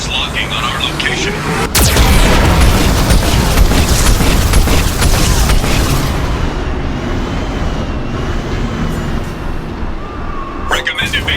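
Geth cannon fire and explosions in Mass Effect 2 rumble loudly and continuously, with a sharp blast near the start, while a synthetic ship voice gives warnings over the din.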